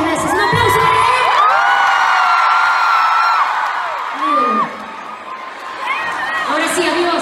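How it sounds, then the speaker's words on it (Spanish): Concert audience at a live pop show in Tel Aviv cheering, whooping and shouting loudly and continuously, with high children's and fans' screams rising over a dense crowd roar. "Un aplauso para Yair."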